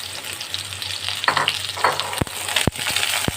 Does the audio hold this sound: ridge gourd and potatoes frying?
yes